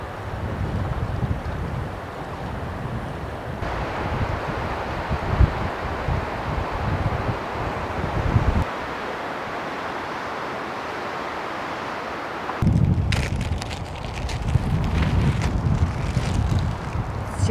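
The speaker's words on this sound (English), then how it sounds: "Just a tad bit windy today." Gusty wind roars across a mountain creek at Yankee Fork Creek off Yankee Fork Road, buffeting the microphone in steady broadband rushes that drop briefly, then swell loudly again with rustling, no voices.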